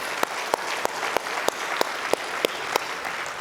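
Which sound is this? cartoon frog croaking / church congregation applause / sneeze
church congregation applause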